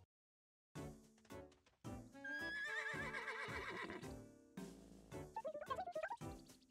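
A horse whinnies in the video game Miitopia, a rising, wavering neigh over game music and hoofbeat-like clip-clops, then a second shorter whinny near the end.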